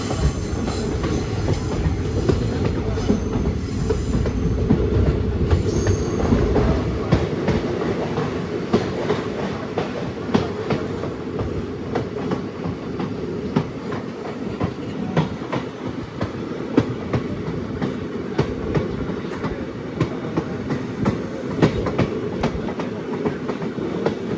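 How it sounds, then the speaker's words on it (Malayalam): A passenger express train rolls steadily along the rails near Thenmala station, wheels clacking in a continuous rhythm with occasional squeals, loud and close throughout with no voices. "ഒന്ന് 52 ട്രെയിൻ ഇതാ തെന്മല സ്റ്റേഷനിലേക്ക് എത്തിക്കൊണ്ടിരിക്കുകയാണ്"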